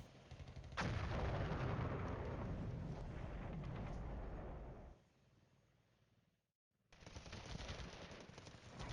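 Mortars firing in the Cold War wargame Flashpoint Campaigns: a sharp launch followed by a long, dense rumbling roar of artillery that fades, drops briefly to near silence, then resumes.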